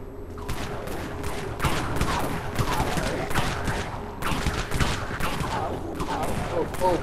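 Gunshots in the video game Dead Frontier, a fast series of sharp cracks and bursts repeating through seven seconds, fairly close, with a voice speaking at moments among the shots.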